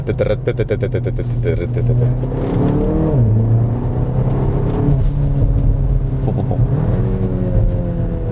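A tuned 350 hp Cupra Ateca engine rumbles and revs loudly and steadily up close, with sharp popping crackles from the exhaust early on, as a person talks over it.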